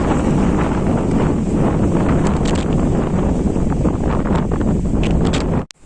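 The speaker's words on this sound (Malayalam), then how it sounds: "നല്ല കാറ്റ് ഇങ്ങനെ അടിച്ചിട്ടേ ഇവിടുന്ന് അപ്പുറത്തേക്ക് തള്ളിയിടുന്ന രൂപത്തിലാണ്" Strong wind on a mountain top at Attappadi roars and buffets the microphone in a continuous loud rush, then cuts off abruptly at the end.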